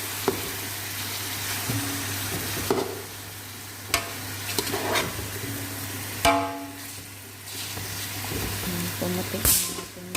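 Ferret soup stirred in a pot with repeated scraping strokes over a steady sizzling simmer, with a few sharper knocks and clatters along the way and a faint voice in the background.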